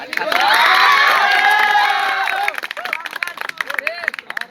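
A crowd of students at a farewell ceremony cheers and claps loudly for the 12th-class students' welcome of Nusrat; shouts and cheers peak early, then scattered claps and voices trail off.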